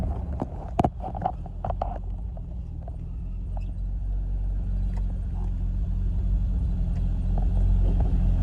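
An orange 1974–75 US-spec Triumph TR6 with four-speed overdrive gearbox drives along, its engine a low steady rumble heard from inside that grows slightly louder, with a few sharp clicks and knocks early on.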